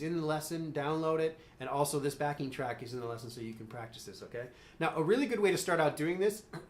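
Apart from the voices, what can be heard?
No everyday noises stand out.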